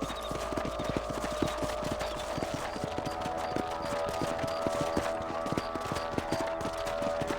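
Steady clip-clop of horse hooves on a ranch trail in Red Dead Redemption, a quick even rhythm of close, distinct hoofbeats running throughout over a low ambient hum.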